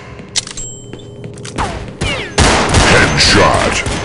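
M1911 A1 Colt pistol fire in CS Nexon Zombies, a few sparse shots at first, then a dense burst of rapid, loud gunfire with impacts and game effects in the second half.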